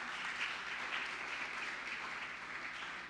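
A church congregation applauds steadily in praise of the Lord, a continuous, even wash of clapping heard from a slight distance.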